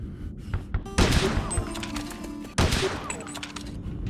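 Pump-action shotgun blasts in the shooter game Bet On Soldier: Blood Sport, two heavy booming shots about a second and a half apart, each followed by a lingering noisy tail over a dense backdrop of combat noise.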